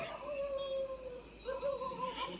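Dogs outdoors in Akola give drawn-out, howling barks and whines, two long wavering calls at moderate distance over low background hum.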